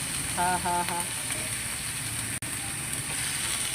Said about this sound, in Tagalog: i-light fry ko muna itong chips